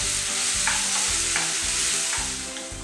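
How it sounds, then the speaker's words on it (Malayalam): Banana pieces fry in ghee in a pan, giving a loud steady sizzle with faint stirring scrapes now and then and no voices. "നമുക്ക് നെയ്യിൽ കിടന്ന് ഇതൊന്ന് വാടി പൊരിഞ്ഞ് വരും."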